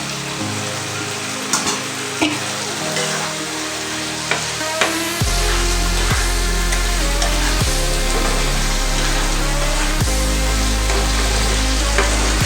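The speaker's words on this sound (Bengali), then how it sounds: "গ্যাস লো করে ভেজে নিতে হবে" Paneer cubes fry steadily in a pan over a low gas flame, a continuous close sizzle with stirring scrapes and a few sharp clicks, and a low background hum that rises partway through.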